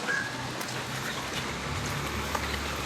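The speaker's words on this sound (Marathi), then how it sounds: "पाऊस आहे." Rain falls in a soft, constant patter, mid-distance and fairly quiet, with no other clear sounds standing out.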